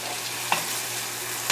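A honey-glazed burger fries in a pan, the honey caramelizing with a steady sizzle and bubbling hiss, plus two brief scraping clicks, no talk.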